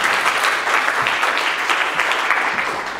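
An audience at a university alumni-day talk applauds, dense, even clapping that stays loud and steady for several seconds and then fades a little at the end.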